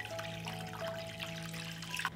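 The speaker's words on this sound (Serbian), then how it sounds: "Sipat ću vodu do visine poklopca" Water poured into a cooking pot lined with a cloth and holding lidded glass jars, a steady soft trickle under a low electrical hum.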